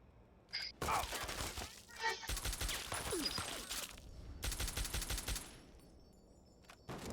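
Gunfire in Fallout 3 during The Pitt add-on: several rapid automatic bursts, loud and close, separated by short pauses, with vocal sounds in between.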